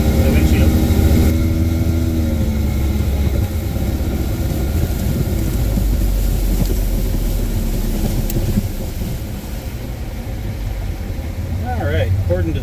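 A 1974 Johnson 70 HP outboard motor idles steadily on a boat, a continuous low engine drone with wind noise, while a person talks over it.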